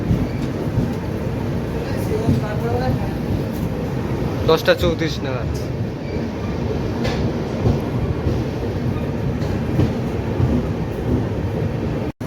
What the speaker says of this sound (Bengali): কিন্তু আমাদের ট্রেন ঢুকেছে 10টা 35 নাগাদ